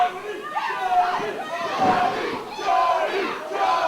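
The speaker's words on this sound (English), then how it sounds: "And listen to the crowd getting behind the Phoenix, getting behind Jody Fleisch." A wrestling crowd at a live event chants and cheers in loud, surging waves that swell and fade every second or so, with a commentator talking over the noise.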